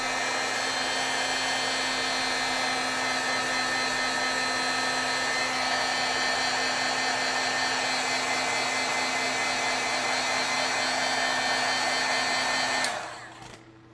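A heat tool drying a wet stamped ink application blows with a loud, steady whirring roar for about thirteen seconds, then switches off and winds down abruptly, with no talking.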